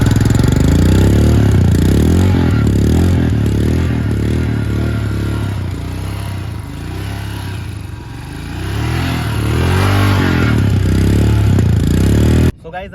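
Royal Enfield Himalayan Scram 411 motorcycle engine idling through its exhaust, a steady low throbbing rumble with mechanical clatter, close and loud, easing slightly midway before swelling again, with a voice speaking over it.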